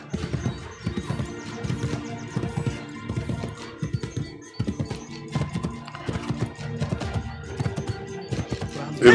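Rhythmic clip-clop of horse hooves trotting at a steady pace in Assassin's Creed Brotherhood, close and clear, with a brief snort at the end.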